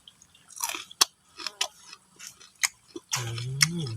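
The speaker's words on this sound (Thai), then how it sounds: "ผมจะกินสับปะรดแล้วนะครับ" Pineapple being chewed outdoors, with several brief crunchy bites and wet chewing bursts spaced irregularly, close to the microphone, followed by a louder stretch of mouth noise near the end; no talking.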